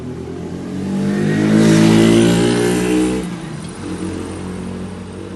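A fourth-generation Kia Sorento full-option four-wheel-drive SUV arrives with its engine running, the hum swelling louder and nearer for a couple of seconds, then easing back to a steady idle.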